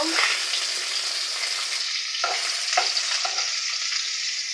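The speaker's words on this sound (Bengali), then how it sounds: "তেল ছুটে গায়ে পড়বে মাছ ভাজতে গেলে" Bronze featherback fish fry in hot oil with a bright, continuous sizzle, close by, broken by occasional scraping and stirring sounds.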